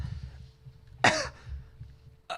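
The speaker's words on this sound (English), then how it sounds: "I'm coughing up coffee." One sharp, harsh cough bursts out loud and close, followed by a faint trailing rasp and the start of another cough at the end, over a low background rumble.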